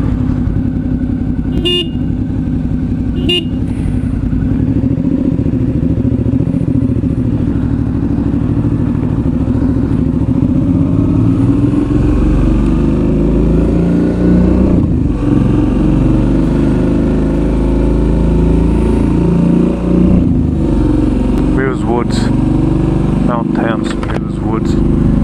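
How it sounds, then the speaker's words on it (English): A Suzuki V-Strom motorcycle starts and rides off: a few sharp clicks, then a loud, close engine drone that rises and falls as it revs and accelerates, with a voice talking over it. "Let's get this bike started."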